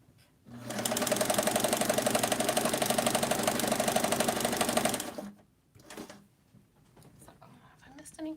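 A sewing machine runs steadily stitching cotton fabric, a fast even mechanical whir for several seconds that then stops, followed by quieter handling noises and faint speech.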